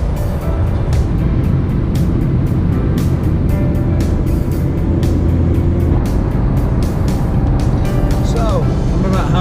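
A car drives along a road through Bulgaria between Sofia and Burgas, with a loud, steady engine and road rumble inside the cabin, broken by regular rhythmic thumps from the road surface.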